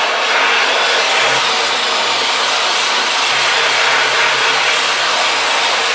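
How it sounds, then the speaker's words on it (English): Steel wire brush scrubbing the bare metal body of a Porsche 964 during a full strip, checking for rust holes, giving a steady, loud, continuous hiss-like scraping that runs unbroken throughout. "I'm gonna take out the steel brush and brush a little bit here"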